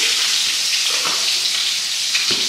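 Potatoes sizzling in hot oil in a home kitchen pan, a steady close crackle with a couple of brief stirring clinks, no voices.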